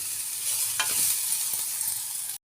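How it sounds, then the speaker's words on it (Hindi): Dal masala for kachori roasting in a pan makes a soft continuous sizzle, with a few light stirring scrapes before it cuts off abruptly. "ये दाल का मसाला मैंने अच्छे से भून रही हूँ इसको भून रही हूँ मैं कचौरी के लिए।"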